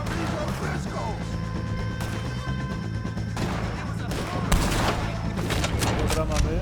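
Rapid bursts of gunfire aimed at O'Driscoll gang members in Red Dead Redemption, loud cracking volleys layered over shouted voices and background game music, with a heavier burst near the end.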